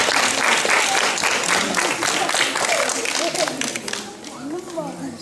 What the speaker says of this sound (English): I think she deserves another big round of applause